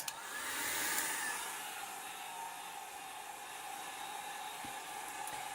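A hair dryer blows steadily over alcohol ink on an old book page, a close, continuous hissing rush of air that holds an even level throughout.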